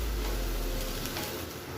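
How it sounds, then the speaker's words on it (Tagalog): Beef steak simmers in soy sauce and stock, giving a soft continuous bubbling hiss, faint and steady throughout the short stretch. "kumukulo na ang ating beef steak"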